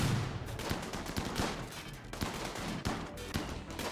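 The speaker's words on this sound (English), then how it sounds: "It's always so satisfying seeing the raiders get wrapped by the turrets." Automated turrets in the video game Rimworld fire on raiders in a loud, rapid fusillade of overlapping gunshots that keeps going for several seconds.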